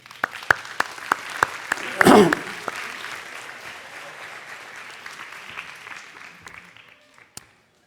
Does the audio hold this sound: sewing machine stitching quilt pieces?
no